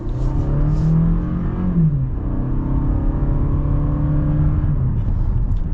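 A 2022 Toyota Camry XLE with a four-cylinder engine accelerates, its engine note holding a steady droning whine that rises after a brief dip as the car picks up speed, loud and close with no talk.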